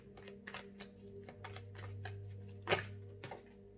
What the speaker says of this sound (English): So let's shuffle some more cards to see what other kind of psychic abilities you have